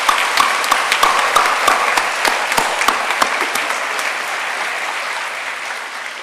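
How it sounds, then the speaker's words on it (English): A graduation ceremony crowd applauds steadily with dense clapping, loud at first and gradually tapering off over several seconds. "let's all take a moment with a big round of applause"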